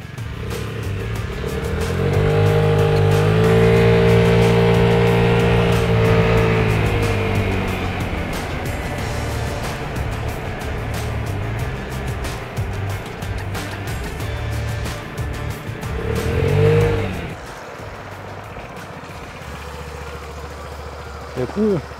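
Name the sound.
Vespa scooter with stock exhaust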